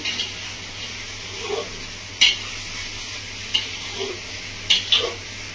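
Katla fish curry with spices being stirred in a pan in a Bengali village kitchen, a soft steady sizzle broken by a few sharp clinks and scrapes of the spoon against the pan, with no talking.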